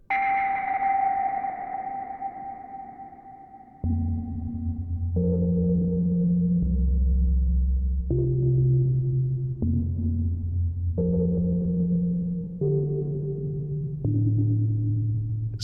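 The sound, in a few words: sonar-like synthesizer patch with reverb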